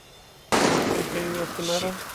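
A sudden loud burst of gunfire erupts in a Far Cry 6 game scene and carries on as a rough crackling barrage, with a short tonal game sound layered over the shots.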